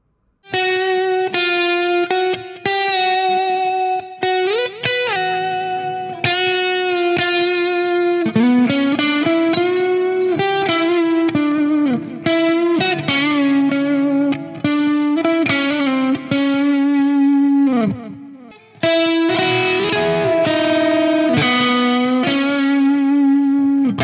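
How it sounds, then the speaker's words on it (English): Heavily overdriven electric guitar played through an overdrive pedal in a guitar rig, sustained distorted notes and bends ringing loud and continuous with a few brief pauses, no talking. "I'll turn up the overdrive pedal we set up just now and see how it sounds."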